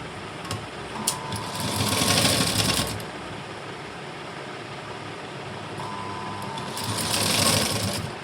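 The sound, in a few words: sewing machine stitching binding strip onto blouse neckline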